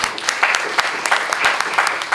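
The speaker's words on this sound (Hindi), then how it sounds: "इनके लिए तालियां बजाइए" Applause at a media workshop, a moderate patter of clapping with sharp individual claps standing out, steady across the moment.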